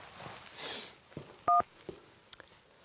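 Telephone number dialed as a quick series of DTMF keypad tones, a few short separate beeps with a slightly longer pair near the middle, over a faint background hush.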